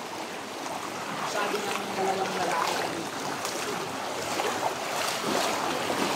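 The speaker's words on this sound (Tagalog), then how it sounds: "Grabe, umaagos yung tubig." Water flows steadily along a sandy shore where gold glitters in the sand, a broad continuous rushing wash with faint wind, heard up close and alone.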